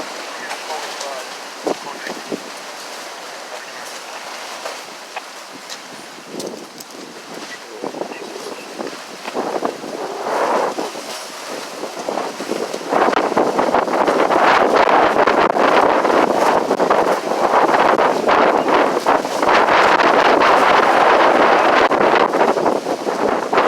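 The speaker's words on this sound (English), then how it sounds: "it's very, very cold and windy out here today" Strong wind on Saint Alphonsus Street in Boston roars and buffets against the microphone, starting moderate with gusts and swelling into loud continuous rushing in the second half.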